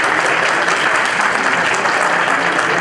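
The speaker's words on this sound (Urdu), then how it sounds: "آپ لوگ بھرپور تالیاں بجائیے بزم ادب کے 22 سالوں کو" Sustained audience applause at a Bazm-e-Adab Atlanta literary gathering, a dense wash of many hands clapping steadily at full volume throughout, with no speech over it.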